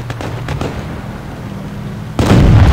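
Tank battle in World of Tanks Blitz: a few sharp cannon-like cracks early on over a low rumble, then a sudden loud explosion bursting in near the end and holding at full strength.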